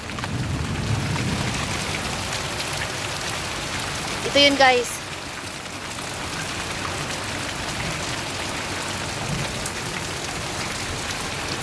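Heavy rain pours steadily throughout a thunderstorm in Kuwait, with a brief sharp thunder crack midway; a voice speaks briefly over the downpour.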